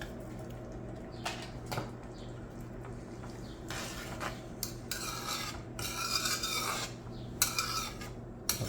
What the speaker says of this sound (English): we're gonna add 1 pack of sazon with a saffron, and we're gonna mix all that really well